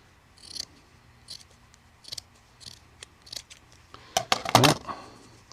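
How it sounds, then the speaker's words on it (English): Scissors snip through a sock to cut off its bottom, a series of short crisp cuts spaced a second or so apart, then a quicker cluster of louder snips near the end, close and without speech. "you can take the rest of the sock and just cut that off"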